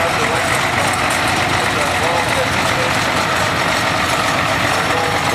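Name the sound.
Case IH 560 diesel tractor engine idling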